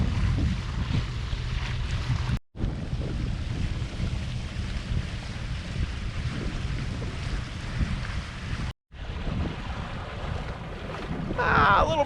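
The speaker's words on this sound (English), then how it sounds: "I can even hear the engine." A boat's engine drones on steadily beneath heavy wind buffeting the microphone on Buzzards Bay, with water washing around the hull throughout.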